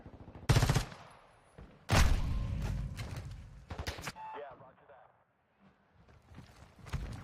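Gunfire in a Call of Duty match: several sharp, loud shots and short bursts at close range, separated by quieter gaps, with some faint background clatter and no clear talking.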